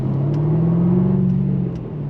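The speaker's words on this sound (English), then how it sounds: "I am pressing the open button for the exhaust so you can hear it roar" A 2024 Jaguar F-Type R75 with its exhaust valves open, giving a steady, loud, close engine drone with a smooth rising-and-settling tone and no voices.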